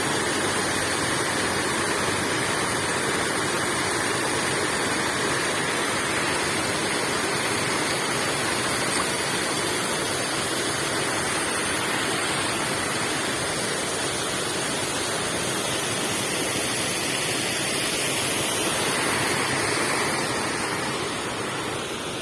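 Water pours over a small dam built across a stream, a constant, close, even rush of falling water that holds steady throughout with no voices.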